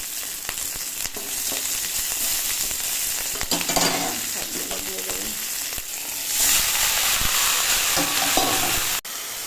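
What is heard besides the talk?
chillies frying and being stirred in a pan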